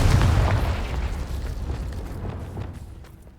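Confringo blasting spell going off in Hogwarts Legacy, one deep, rumbling explosion that hits loud at the start and then fades in a long, crackling tail.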